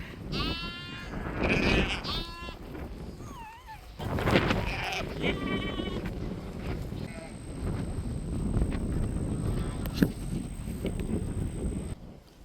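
Several sheep bleat repeatedly nearby, wavering cries coming in bursts over rustling and shuffling, with a faint high whine partway through.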